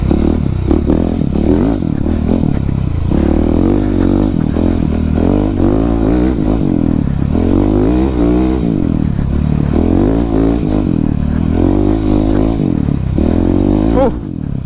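A Husqvarna 701 700cc supermoto motorcycle rides off-road over snow and icy winter roads, its engine droning loud and close throughout with repeated revving swells and rough clattering.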